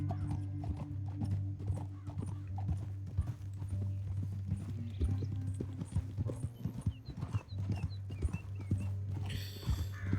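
Horse hooves clip-clop continuously at a brisk pace in the video game Red Dead Redemption 2, with a brief whinny and a low steady hum underneath.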